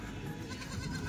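Kathiyawadi goats bleating at a goat market, faint and somewhat distant over a busy background murmur.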